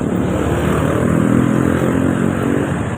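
A motorcycle engine runs steadily up close, a loud continuous rumble with a gritty mechanical clatter and no pauses.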